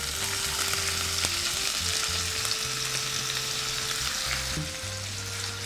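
Cumin seeds sizzling in hot oil in a pan, a continuous bright crackling hiss with faint stirring, close and steady throughout, no talk.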